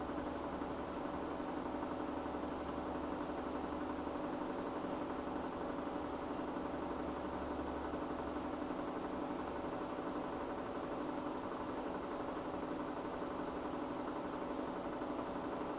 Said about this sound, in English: Now I will reduce the RPM of the motor.